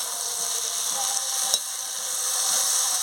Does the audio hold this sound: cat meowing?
no